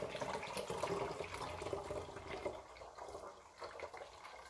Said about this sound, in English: let's see what happens when we keep adding water